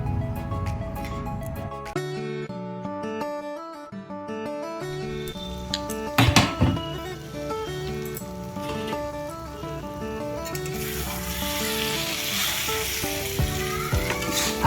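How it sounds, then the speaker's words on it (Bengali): Fried vegetables and paneer sizzle in a butter masala gravy on low heat, a steady soft frying hiss that runs throughout beneath louder background music. "এখন এর মধ্যে ভেজে রাখা যে ভেজিটেবলগুলো রেখেছিলাম আর পনির দিয়ে ভালো করে একটু অল্প আঁচ করে একটু কষিয়ে নেব।"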